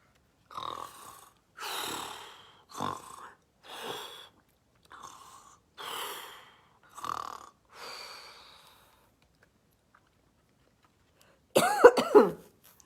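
Several voices make a series of rasping, snoring noises, one after another with pauses between, followed by a louder burst of imitated snoring near the end.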